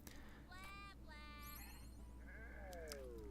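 Cartoonish sheep bleats from the video game Renowned Explorers, several short wavering cries in quick succession over a steady low background hum, close but quiet, followed by a sliding tonal game effect.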